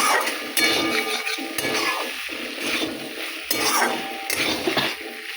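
Spiced pointed gourd (potol) curry stirred in a pot, a steady scraping and sizzling that runs through the whole stretch with light clinks of the spoon against the metal, close by and with no talking.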